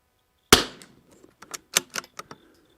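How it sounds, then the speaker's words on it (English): A single sharp 22 rimfire rifle shot cracks loudly at the start, followed by a series of softer, quick clicks and knocks as the rifle fitted with an EC Tuner V2 is handled outdoors. "EC Tuner V2, first 3 shots."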